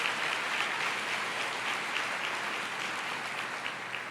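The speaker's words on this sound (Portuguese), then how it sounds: "Glória a Deus, pode aplaudir." A church congregation claps during a Sunday sermon, a sustained wash of many hands clapping at a steady level that eases slightly toward the end.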